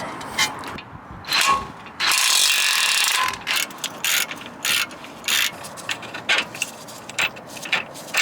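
Bolts holding a snapped control arm on a BMW car are loosened with a hand ratchet, giving loud, close bursts of rapid clicking in repeated strokes, with one longer run of clicks and short pauses between.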